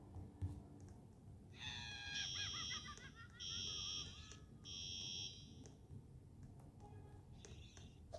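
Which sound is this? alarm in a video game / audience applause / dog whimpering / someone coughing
alarm in a video game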